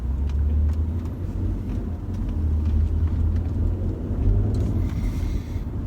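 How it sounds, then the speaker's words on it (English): A Maserati Ghibli sedan in sport mode, said to carry a Ferrari-built engine, gives a steady, deep exhaust drone from inside the cabin, low and rumbling with slight swells and no talking. "the exhaust actually sounds really good"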